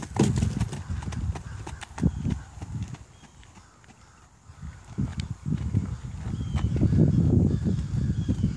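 Hooves of a horse clip-clopping on an arena surface during a riding lesson, a steady near rhythm of soft thuds that fades briefly and then grows louder as the horse approaches, with a little background voice.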